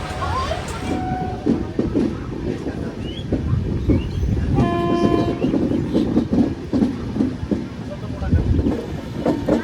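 The Kulik Express rumbles and clatters as it runs along a curve on the track, with a continuous rolling rail noise and brief squealing tones in the middle that suggest wheel screech.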